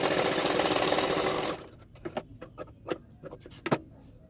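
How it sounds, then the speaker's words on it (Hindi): A sewing machine runs a stitch along a folded fabric strip on a blouse: a loud, fast continuous whir for about a second and a half, then scattered light clicks and taps as the stitching stops. "एक्स्ट्रा पट्टी में और एक सिलाई डाल रही हूँ"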